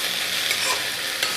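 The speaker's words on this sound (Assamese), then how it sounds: "এনেকৈ মই ভাজি থাকোঁ আৰু ভাজাৰ পিছত মই গৰম পানী দি দিম" Chickpea curry masala sizzles and fries in a pan while a spoon stirs it, giving a steady close crackle with brief scraping strokes.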